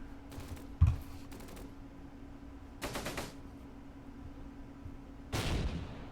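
Grenade explosions in the World War II strategy game Close Combat Gateway to Caen: a few separate short bursts, each a brief crackling blast, spaced over several seconds against a steady low hum.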